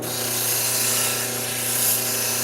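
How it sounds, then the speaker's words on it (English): A thunderegg core cabochon is ground on a round polishing wheel, producing a steady, loud whirring rasp that stays even throughout with no pauses and no voices. "polish a flat surface on a round wheel too"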